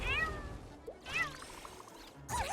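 A cat meows several times with rising and falling wails, spaced by short pauses, close and fairly clear over low background game noise in Escape from Tarkov.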